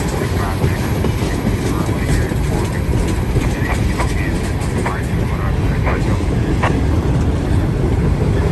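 Boxcars on a passing CSX or Norfolk freight train make a loud, steady rolling roar with repeated clacking wheel hits, and a voice speaks over it.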